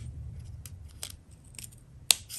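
Scissors trimming excess material from a handmade Christmas ornament centerpiece: a few soft snips over a low background hum, then one sharp, crisp cut near the end, close by with no talking.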